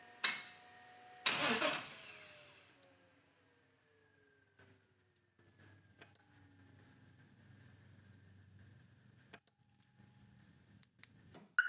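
A vehicle engine cranks and starts with a loud burst, then the tone winds down and settles into a faint, low idle, broken by scattered clicks and thumps as the throttle cycles.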